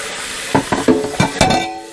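A bowl being washed in a kitchen while cooking shrimp scampi: a few quick clinks and knocks of the bowl with watery scrubbing, close and fairly loud, no talking.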